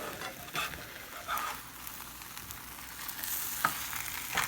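Fried tortilla chips for chilaquiles being stirred in red sauce in a pan, with a steady close sizzle broken by soft scraping and stirring strokes throughout.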